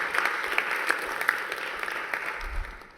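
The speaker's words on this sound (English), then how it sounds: "Big round of applause for Esther." An audience at a university panel event, the inaugural DS&AI UNESCO Chair gathering, gives a short burst of close, crisp clapping with distinct sharp claps, fading out after about three seconds.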